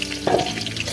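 Cut potatoes, prepared for a mutton curry, sizzle in hot oil in a pan, a soft steady frying hiss with a brief louder stir-like burst near the start.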